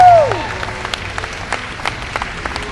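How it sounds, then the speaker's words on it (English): Applause from a crowd at the 2007 MLG Halo 2 national championship gaming event in Las Vegas, a scattered round of clapping following a fading tone, fairly soft and brief. "Let's give him a big round of applause, folks."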